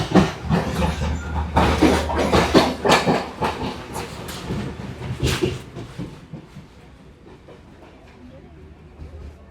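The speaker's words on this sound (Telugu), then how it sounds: "కొలంబో నుంచి గాలే అనే సిటీకి మన ట్రైన్లో జర్నీ చేస్తున్నాం కదా సార్" A passenger train from Colombo to Galle, Sri Lanka, rattles along the rails with rhythmic clattering and rumble, loud at first and then settling into a quieter steady hum.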